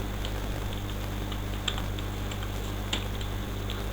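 Light typing on a computer keyboard while entering Java code, a few sparse soft key clicks over a steady background hum, close and quiet with no speech.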